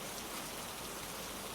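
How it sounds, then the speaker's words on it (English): Steady rain falls on the glass windows of a secluded coffee shop, a dense, even hiss of drops that continues without a break and with no voices. "Rain falling across glass in smooth sheets."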